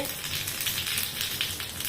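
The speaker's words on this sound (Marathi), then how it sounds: "इथे मी छान असं कडकडीत तेल करून घेतलेलं आहे त्यामध्ये जिरा टाकते" Cumin seeds hit very hot oil for a tempering poured over cucumber koshimbir, producing a dense, even, close hiss and crackle that holds steady throughout with no talking.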